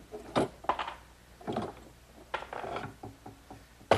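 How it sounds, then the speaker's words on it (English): Woodworking clamps are loosened and removed from a dried, glued wooden top blank for a candle stand: several separate close ratcheting and creaking clicks with wooden knocks and pauses between them. "now that the glue is completely dry on my top blank, I can unclamp it."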